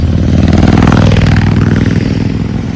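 A line of motorcycles in a large touring group rides past on a high mountain road on the Delhi to Leh Ladakh route toward Pangong Lake, their engines loud and close with a steady droning rumble that carries throughout.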